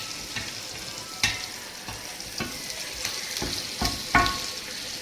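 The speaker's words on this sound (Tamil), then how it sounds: "கனவா பொரிக்கும்போது கொஞ்சம் அடியில் வாங்கணும்." Squid fries in oil, sizzling and crackling steadily in a pan, with sharper pops and spits now and then over the constant hiss of frying.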